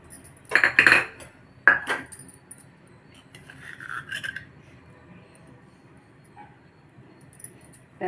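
Egg idli being lifted out of an idli mould and set onto a plate: two close, sharp clinks of metal on metal early on, then softer scraping and rubbing, with no talking.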